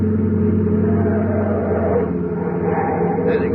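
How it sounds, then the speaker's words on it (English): A car speeds along a highway in a vintage radio drama, a steady engine drone holding close and loud for several seconds. "Clay, car coming up that highway now"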